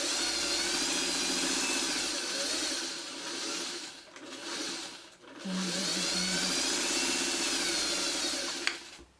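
A sewing machine stitches a quilt block from the right side, a steady close mechanical whir that dips briefly twice before running on, with no voices heard.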